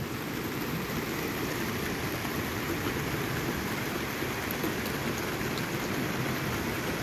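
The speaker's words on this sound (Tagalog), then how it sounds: "Ito talaga, ulan na talaga." Heavy rain pours down in Israel, a dense, continuous hiss and patter of drops on surfaces, steady and loud throughout with no voices.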